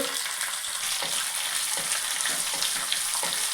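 Onions frying in hot oil with cumin, dried red chillies and curry leaves for mint chutney: a loud continuous sizzle broken by regular stirring scrapes every half second or so, close and without talk.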